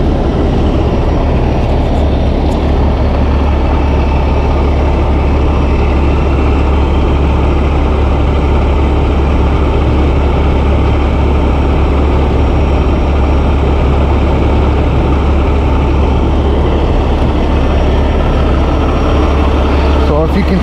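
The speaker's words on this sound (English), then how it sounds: "I'm gonna wait for the tractor to pull out" A tractor's heavy diesel engine rumbles steadily as it pulls out of a yard during a truck recovery. The deep, loud drone holds for the whole stretch with little change in pitch.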